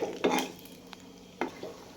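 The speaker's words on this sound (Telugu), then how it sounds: "సో అలా కలుపుతూ ఉంటే మనకి కింద అడుగు పట్టకుండా ఉంటుంది" A spoon scrapes and stirs through a thick fried onion and tomato mixture in a pan, with a few distinct knocks and scrapes over a faint background.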